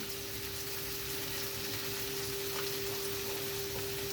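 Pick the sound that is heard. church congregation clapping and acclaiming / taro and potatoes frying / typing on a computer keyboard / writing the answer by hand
taro and potatoes frying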